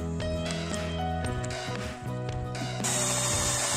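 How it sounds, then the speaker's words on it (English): A cordless drill with a nearly flat battery, used while retrofitting ABS to an Aprilia Futura motorcycle, whines in short stuttering bursts whose pitch shifts as the motor falters and restarts. "here goes the empty battery again, and obviously a single use drill"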